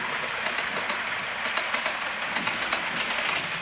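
A Bachmann Class 411 4-CEP model electric multiple unit runs along a layout track, a steady, fairly close, hissing rumble with faint rhythmic clicks of the wheels over rail joints.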